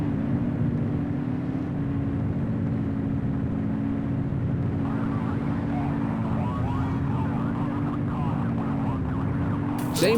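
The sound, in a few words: police car siren in video game The Precinct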